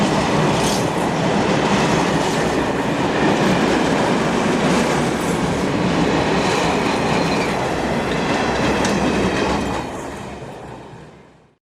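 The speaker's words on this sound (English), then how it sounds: "Freight trains were noted as around 1 per hour in each direction." A freight train rolls past close by near Schirnding station in a heavily wooded area, a loud, steady rumble with rhythmic clickety-clack of wheels that holds for about ten seconds, then fades as the last wagons move away.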